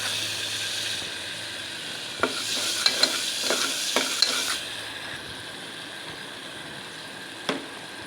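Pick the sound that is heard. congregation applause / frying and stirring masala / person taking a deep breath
frying and stirring masala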